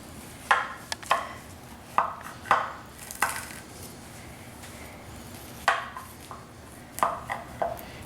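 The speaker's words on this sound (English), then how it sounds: "So I'm going to cut a nice little piece here." A knife slicing through a piece of peach crumble pie with a crispy crust, heard as a series of sharp crunchy cuts and taps against the plate, close and fairly quiet with no talking.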